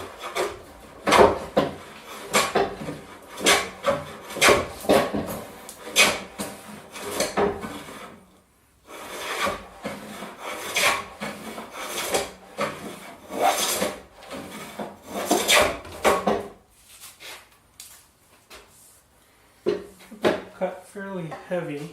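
Hand plane taking very fine shavings along a wooden board during a workbench build, a run of close, rhythmic rasping strokes with brief pauses, then quieter handling with someone speaking near the end.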